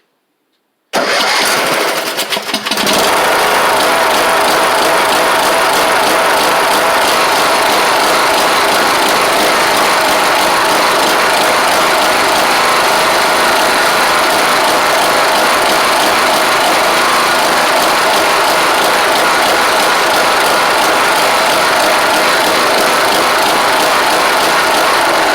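A Troy Bilt Pony riding mower with an intake leak, revived after sitting for years, starts after a brief cranking burst and then runs loud and steady at close range for the rest of the span.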